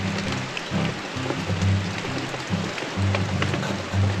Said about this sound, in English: It's been raining all afternoon and everything's wet and muddy again